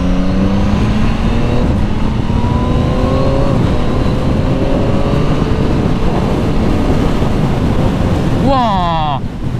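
A 2021 Yamaha MT-09 motorcycle engine accelerates while riding, its tone climbing through several gear changes under constant, heavy wind rush, with a quick rising rev sweep near the end.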